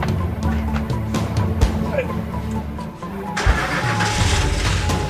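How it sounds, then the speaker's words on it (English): A car engine cranks and catches, idles roughly, then is cut and started again with a sharp crank and surge, all loud and close with people speaking over it. "I said open, start this car, open the gate!"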